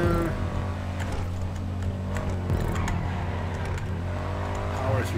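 Car engine roars steadily and loudly through a GTA 5 Online race, held at high revs with shifting pitch as the vehicle powers through a turn.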